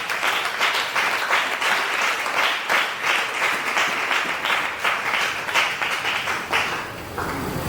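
A church congregation applauds in praise of the word of God during an Easter sermon, with loud, dense, sustained clapping that carries steadily for several seconds and tapers slightly at the end.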